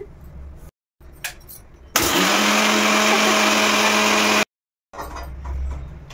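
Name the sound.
mixer grinder powdering rock sugar with cardamom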